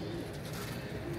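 Soft pigeon cooing alongside a steady ambient hum as a flock of pigeons is released to fly, brief and moderately close with no talk.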